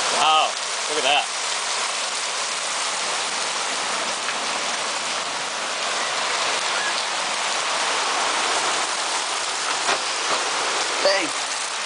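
A dense, steady roar of heavy rain and hail from a typhoon in Kyoto pours down close by, loud and unbroken for the whole stretch, with a faint voice near the end.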